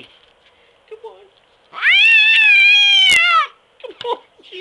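A palomino cat lets out one long, loud, drawn-out meow lasting over a second, close by, with a sharp click near its end and softer voiced sounds and a person talking around it.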